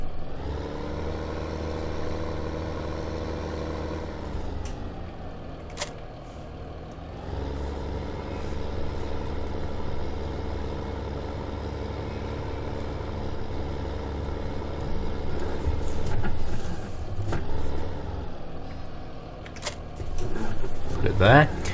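A tractor engine in Farming Simulator 2015 drones on at a steady idle as it is loaded onto a trailer in a farmyard, with the pitch dipping and rising as the throttle changes and a few clunks and hissing bursts near the end.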